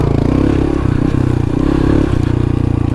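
A Honda Trail 125 fitted with a Yoshimura exhaust and spark arrestor idles and lightly revs up close, a loud, steady, slightly higher-pitched putter with a faint mechanical clatter.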